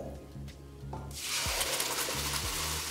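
Ground tomato hits spices in hot oil with a sudden loud sizzle that surges and then holds as a steady bright hiss, preceded by a few quiet clinks of a utensil against the pan.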